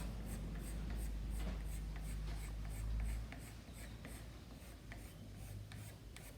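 Chalk or pencil scratches marks onto wood in a stringed-instrument building class, short rasping strokes repeating in an uneven rhythm close by, with a low background rumble that eases midway.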